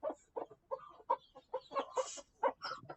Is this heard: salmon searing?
no